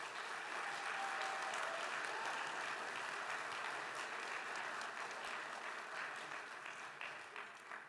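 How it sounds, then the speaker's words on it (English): A large crowd at the GCU Canyon Challenge event applauds in a broad, sustained roar of clapping that holds steady and then begins to fade slightly toward the end, with no talk over it. "can we just give them a big round of applause here?"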